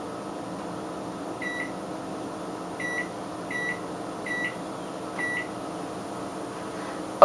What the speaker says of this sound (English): I'm using the microwave timer because I don't have another timer